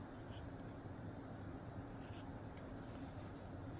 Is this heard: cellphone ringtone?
no